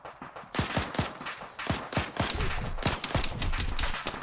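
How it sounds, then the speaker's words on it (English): Automatic gunfire in the military video game Arma 3, a rapid series of sharp, loud shots in quick bursts, nearly continuous across the whole stretch. "I hear shots."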